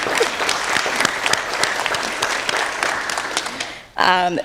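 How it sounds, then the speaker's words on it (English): Audience applause at a Massachusetts government announcement on workforce data, a dense, sustained clapping that fades near the end before a voice begins speaking. "Let's give a round of applause for that."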